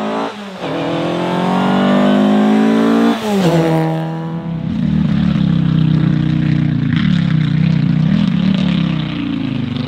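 A rally car roars past at a Flemish rally stage, its loud engine note sweeping down as it goes by, then fading into a rough, uneven rumble that lingers for several seconds.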